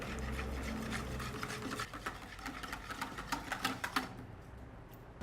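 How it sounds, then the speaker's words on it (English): Eggs, mala, oil and vanilla whisked together in a bowl: a fast, steady run of close, light metallic ticks and taps, continuous for several seconds before stopping abruptly. "Then we are going to whisk it together."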